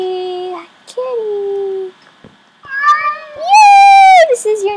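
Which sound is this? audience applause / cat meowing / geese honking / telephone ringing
cat meowing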